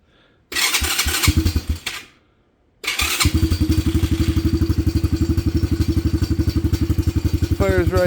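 A Venom Madix 125 motorcycle cranks once, briefly catches and dies, then fires again and settles into a loud, rapid, even single-cylinder idle close by.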